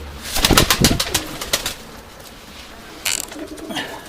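Urfa Arab pigeons cooing close by, several soft throaty coos bunched early on, a quiet stretch, then a few more coos near the end, with no talking.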